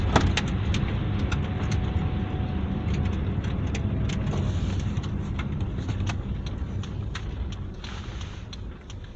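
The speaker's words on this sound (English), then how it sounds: "a couple cars speeding along" Cars speed along a main road near Ollersbach, Austria, in November snow, giving a steady loud roadway rumble with rattling ticks nearby that fades slightly toward the end.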